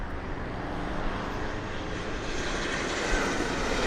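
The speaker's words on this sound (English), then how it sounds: "the other flight, American Airlines hitting the skies" American Airlines plane taking off from Las Vegas Harry Reid International Airport, a loud, steady, broadband engine roar that fills the whole stretch without a break and with no voices.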